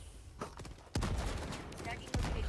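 Gunfire from the video game Helldivers 2, bursts of shots and a couple of loud, sharp blasts over a continuous battle din, with a voice briefly talking.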